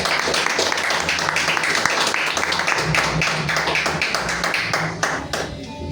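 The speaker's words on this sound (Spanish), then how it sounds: "Denle un aplauso al Señor." A church congregation claps rhythmically in an even, quick beat, many hands together. The sound is close and fills the space, with a low hum underneath, and it thins out toward the end.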